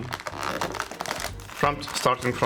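Packaging for a Logitech POP Keys keyboard crinkles and rustles in close, irregular bursts as the box is opened, with someone talking over the handling.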